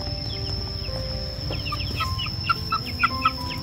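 Chickens cluck and chirp as they return to their coop in a large farm garden, with scattered calls building toward several louder clucks near the end over a steady outdoor background hum.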